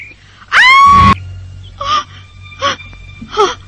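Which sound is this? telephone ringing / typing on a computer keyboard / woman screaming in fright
woman screaming in fright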